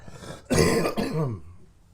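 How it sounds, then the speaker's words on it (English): A harsh cough, close to the microphone, a forceful burst that trails off into a rasping breath. "When you hear me cough"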